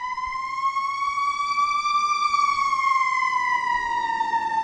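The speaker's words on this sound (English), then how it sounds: "I need to pause because the sirens are going by" A siren wails steadily with a slow rising and falling pitch, loud and close, sounding continuously without talk.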